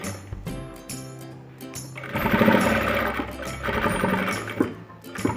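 Sewing machine stitching a child's fabric face mask, running in steady bursts of rapid mechanical chatter with brief pauses between runs, close and fairly loud.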